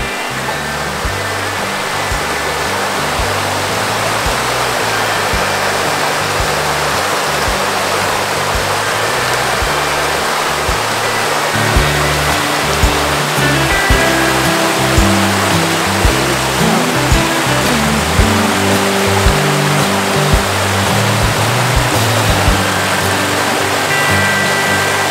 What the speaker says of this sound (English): This is the Hurricane River, and that is Lake Superior.